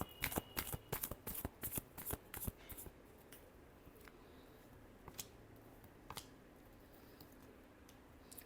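Tarot cards shuffled by hand in a quick run of crisp riffling snaps, dense for the first few seconds and then thinning to a few scattered flicks against a quiet room.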